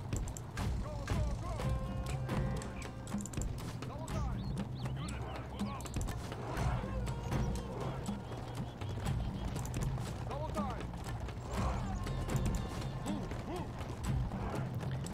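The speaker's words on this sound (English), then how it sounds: "these guys just take forever to get their horses moving." Cavalry horses gallop in a Byzantine campaign strategy video game, with dense clip-clop hoofbeats and occasional whinnies over battle noise, while someone talks over the top.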